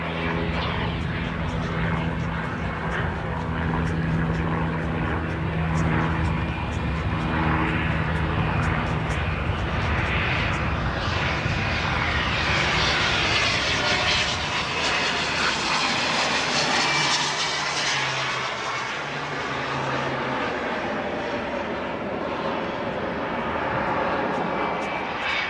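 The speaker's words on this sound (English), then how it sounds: "We've got the Vulcan, we've got the Valiant," Avro Vulcan and Vickers Valiant jet bombers flying together at the Elvington airshow, a loud continuous roar of jet engines that swells and shifts as the aircraft pass overhead, heard throughout without talk.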